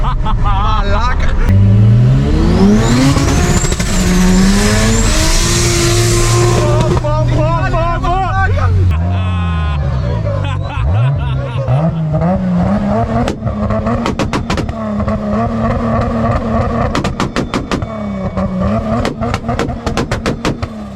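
Race cars, a Mazda RX7 FC and a MK3 Supra, battle on track with loud engines revving and accelerating, pitch sweeping up and down through gear changes, under talk and crowd noise.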